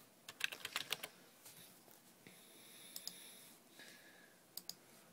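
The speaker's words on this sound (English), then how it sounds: "We're going to type out the string." Quiet typing on a computer keyboard: a quick burst of key clicks, then scattered single taps and a few paired clicks with pauses between them.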